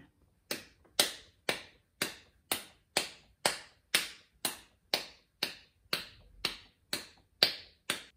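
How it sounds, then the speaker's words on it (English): Steady series of sharp, evenly spaced hand claps used as body percussion, about two per second, each crisp and close with a quick decay, played alone with no talking. "For body percussion, we'll use claps."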